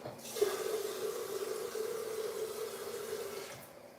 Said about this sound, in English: I need to put some more water because I'm making some tea.